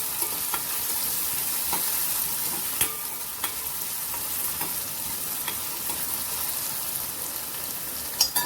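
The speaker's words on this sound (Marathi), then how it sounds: "कांदा टोमॅटो घालायचा आहे आपण हे छान परतूया" Onion and tomato sauté for a raw jackfruit curry, a steady hissing sizzle in the pan with occasional soft stirring clicks, close and even throughout.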